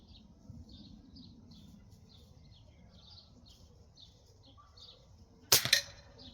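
SMK 501 air rifle fired outdoors at a range, a sharp close crack near the end with a brief echo, following quiet birdsong in the background.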